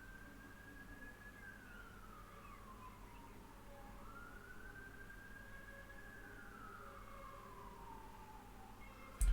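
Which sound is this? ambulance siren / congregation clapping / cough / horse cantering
ambulance siren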